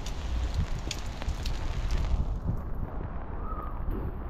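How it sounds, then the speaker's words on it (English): Rain and gusting wind during an outdoor walk with an umbrella, a dense rushing wash of rainfall and buffeting air close to the microphone that eases slightly toward the end. "I have to walk in the rain again."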